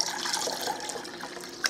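Vinegar mixture poured together for a fruit shrub, a soft continuous splashing liquid pour lasting under two seconds, fairly quiet and close.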